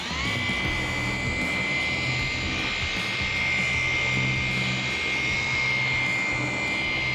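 A dual-action polisher fitted with a wool pad runs at speed setting 5 on sun-damaged car paint. It gives a steady, close, high-pitched motor whine with a humming drone underneath that holds even throughout.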